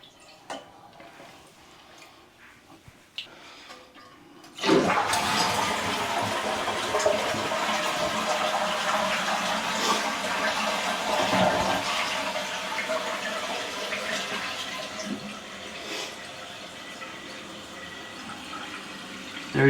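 A toilet with a newly replaced flapper is flushed, a sudden loud rush of water that settles into a steady hissing refill of the tank, after a few quiet clicks and taps.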